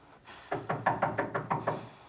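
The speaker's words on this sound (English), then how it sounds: "a knock at the door has us noticing the background" Rapid series of about seven knocks on a door in a scene from Citizen Kane, evenly spaced and moderately loud against a quiet background, with no talking.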